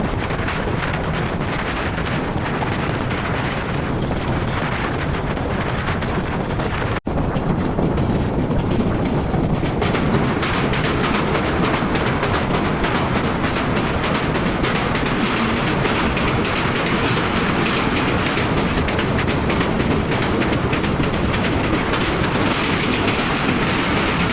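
The Parabat Express rolls through Pubail railway station with a loud, continuous rumble and rush of wheels and wind from on board. A brief sharp click comes early, then the steady roar carries on unbroken.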